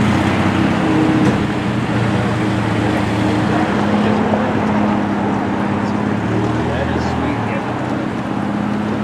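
Morgan sports car arriving at an all-British car gathering in Keswick, Ontario, its steady low engine drone running continuously beneath wind buffeting the microphone, fairly close and loud throughout.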